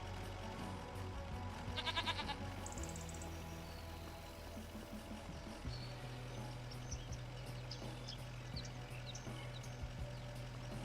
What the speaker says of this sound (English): Check on the goats.